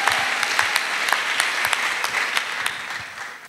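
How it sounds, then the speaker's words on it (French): A church congregation applauds in a sustained, crowded round of clapping, individual sharp claps popping out of the dense patter before it eases off slightly at the end. There is no speech. "Acclamation. Clap of free."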